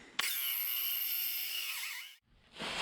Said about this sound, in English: So now we should be able to drill through this and actually have a good notch.